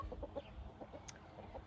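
White chickens clucking in short, scattered calls over a low rumbling background, fairly close and moderately loud, with a brief higher squawk partway through.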